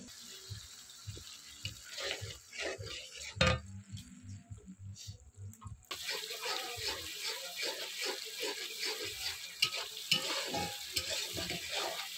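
A paste of ground poppy seed, cashew and mustard fries in a pan, sizzling softly while a spatula scrapes and stirs it in irregular strokes, with a brief watery splash partway through; close and fairly quiet.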